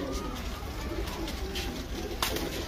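Kasuri golden pigeons coo softly in low, rolling calls against a steady background hiss and noise, close by, with no one speaking.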